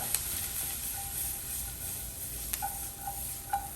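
Chili powder and spices fry in hot oil, a steady close sizzle with light hiss, punctuated by a few soft scrapes and clicks of a utensil stirring the pan, with no talking.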